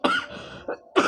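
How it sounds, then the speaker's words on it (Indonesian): A short burst of coughing, two or three rough coughs close up, with brief pauses between them. "Jadi we batuk."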